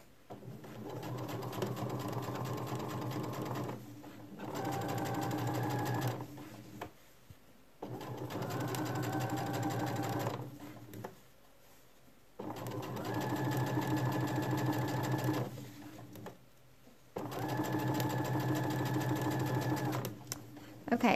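A sewing machine stitches bias tape in four long runs of steady, rapid mechanical whirring, separated by short pauses, close up and loud.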